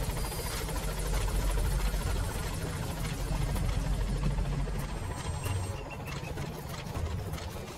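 Support helicopter in Metal Gear Solid V: The Phantom Pain arriving at the landing zone, a loud, steady rotor and engine drone with heavy low thumping that fills the whole stretch, with no talk over it.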